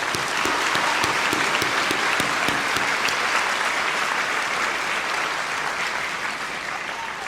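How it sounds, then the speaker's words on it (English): Steady, dense applause from an audience at a children's art awards ceremony, sustained evenly for several seconds with many hands clapping at once and no talk over it. "Please give all these people a big round of applause."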